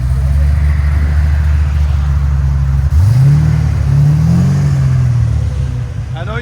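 A 700 hp 1976 Pontiac Trans Am V8 with headers and a Borla exhaust rumbles loudly at idle. Partway through it revs up in a sharp rising roar, then settles back into a steady, deep burble.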